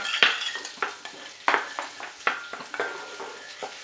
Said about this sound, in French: je mets mes oignons, j'ai préparés que j'ai émincés va les faire revenir